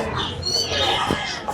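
A cat at a crowded animal market in Mirpur 1, Bangladesh gives faint, brief meow-like cries amid a low murmur of background noise.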